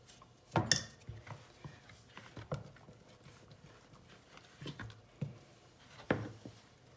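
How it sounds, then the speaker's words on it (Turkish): A wooden spoon mixes salted flour and water into soft dough for gözleme in a bowl, making irregular soft thuds and scrapes against the bowl, fairly close and quiet. "Hamurumu önce bir şöyle kaşıkla tahta kaşık yardımıyla karıştırıyorum."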